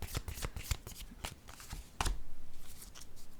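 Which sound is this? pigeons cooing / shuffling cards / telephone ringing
shuffling cards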